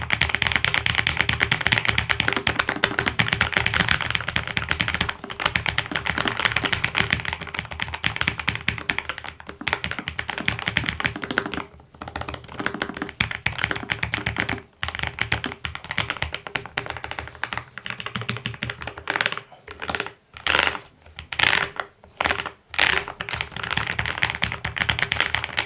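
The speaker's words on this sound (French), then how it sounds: "Ici, je vais vérifier la réactivité et la constance des touches lors de saisies plus rapides." Fast typing on a Lofree FlowLite84 low-profile keyboard, a dense rapid stream of light key taps close up, with a few brief pauses between bursts near the end.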